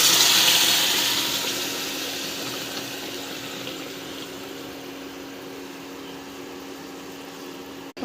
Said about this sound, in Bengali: এর মধ্যে গরম জল দিয়ে দেবো।